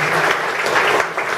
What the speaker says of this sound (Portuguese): Quero pedir uma salva de palmas para o Givanildo também.